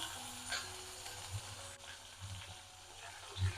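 Brinjal frying in hot oil with mustard seeds in a kadai gives off a steady, close sizzle, with a few soft stirring knocks now and then and no talking.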